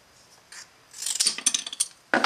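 Blades cutting through a drilled piece of material for a misting setup, a short run of close scratchy rasping snips that build and stop, followed by a sharp final cut, with no talk.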